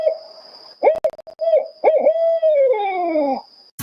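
Owl hooting and calling in several varied, tonal hoots and screechy wavering notes, close and clear with short pauses between calls, ending in a long descending wail.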